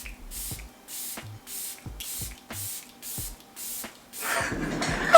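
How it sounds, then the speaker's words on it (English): Peach and Lily Glass Skin Veil Mist setting spray spritzed onto a face in about eight short, even hissing puffs at close range, ending in one longer, louder burst of mist. "we're gonna go in with the Peach and Lily Glass Skin Veil Mist"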